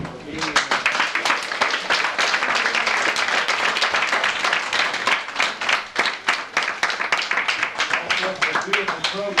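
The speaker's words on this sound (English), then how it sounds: "let's give them a round of applause and appreciation for being here" An audience at a community gathering claps loudly and steadily, a close crowd of hands with some individual claps standing out and a few voices mixed in.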